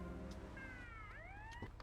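A police siren from GTA Vice City wails in rising and falling sweeps over a low engine hum, fairly faint and brief with no talking.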